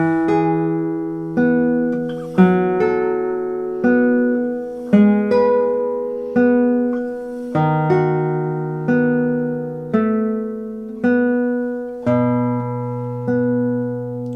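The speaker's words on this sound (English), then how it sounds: "I'm rest stroking every note, and I'm slowing the tempo down quite a bit in order to do that." A guitar plays slow, deliberate single notes, each a rest stroke ringing out clearly before the next, in a steady unhurried rhythm with no voices.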